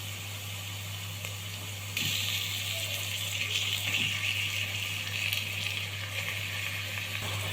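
Meat sizzling in a hot pan with garlic, onion and pepper for an Egyptian home-style dish, a continuous bright frying hiss that grows louder partway through, with no speech.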